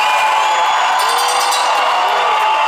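A packed Las Vegas theater crowd roars and cheers at a live show, a loud, continuous wall of shouts and whoops filling the room.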